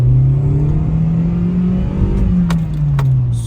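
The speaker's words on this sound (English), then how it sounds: "So now we're gonna go for some acceleration, and I'm not gonna push this car too much" A Toyota car accelerating, its engine note loud and close as it climbs steadily and evenly before easing off near the end, with a few faint clicks underneath.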